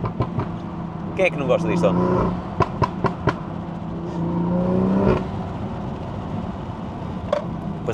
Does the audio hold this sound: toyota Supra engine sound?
yes